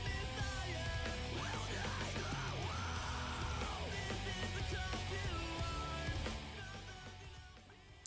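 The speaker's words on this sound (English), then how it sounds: "that's all me screaming" A person lets out a long, sustained scream with wavering pitch, loud and up close, gradually fading in the final seconds.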